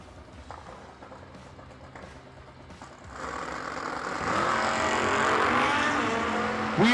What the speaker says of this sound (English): Travers in the Vega right side, 616 dial, 661 the dial in for Michael Falks in the Kawasaki two-wheeler